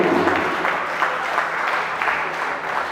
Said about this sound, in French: Je veux que vous applaudissiez très très fort pour lui.